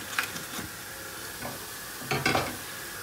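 Unsalted butter sizzles in a hot frying pan, a soft steady crackle broken by a few brief scraping stirs, heard up close with no talking.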